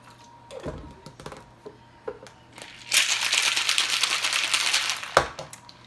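A cocktail shaker is shaken for a few seconds of loud, dense rattling, which follows scattered clinks and taps and ends with a sharp knock.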